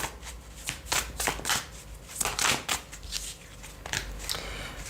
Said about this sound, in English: I'm going to reshuffle that.